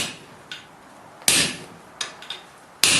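A hammer strikes hot steel on an anvil while bolt jaw tongs are forged, landing a handful of sharp, ringing blows at an uneven pace, some louder and some lighter, with quiet gaps between.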